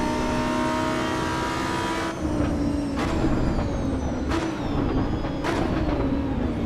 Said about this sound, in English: I can hear the backfires and a little bit of cackling.